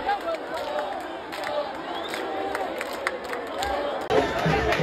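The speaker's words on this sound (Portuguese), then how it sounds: "a torcida ali do CSE dá aquela animada" Football crowd of CSE supporters at a Série D stadium match against ASA, buzzing and cheering as a penalty is awarded; a wide, distant roar and chatter with brief louder swells, talk over it.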